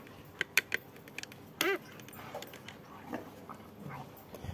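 Dog making a few short, soft whimpers and yelps, scattered in bursts over a quiet outdoor background with faint rustling, close but low in volume.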